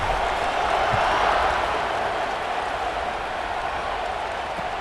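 A stadium crowd roars in College Football 26, a dense, steady wash of cheering that fills the whole stretch, loud and sustained without clear breaks.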